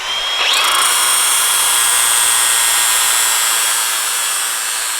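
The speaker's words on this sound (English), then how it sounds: "This is the at-home garage lathe." An improvised home garage lathe spins up and runs with a loud, steady high-pitched whine and faint metallic ringing, holding constant for several seconds with no talking.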